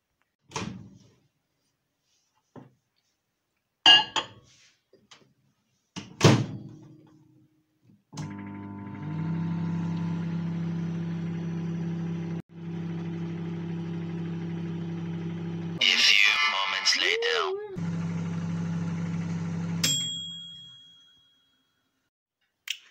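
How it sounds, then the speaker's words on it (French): A microwave oven heating a chocolate mug cake: a few door clunks and button beeps, then a steady close hum running for about twelve seconds, a brief louder rattle, and a final beep as it stops. "il faut que je mette ça au micro-ondes pendant 1 ou 2 minutes"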